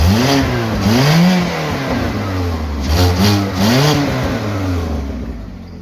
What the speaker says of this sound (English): I'll let you listen to the engine.